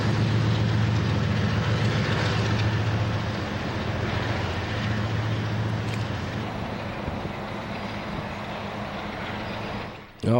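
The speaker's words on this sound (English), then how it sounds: "I just like the sound of trains, the movement, the whole kind of concept of trains." A train rumbles past steadily in a city neighborhood, a loud continuous roar that slowly eases before cutting off at the end.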